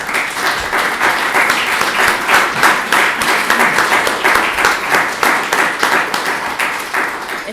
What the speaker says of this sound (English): I'm sure we'll join you and give a round of applause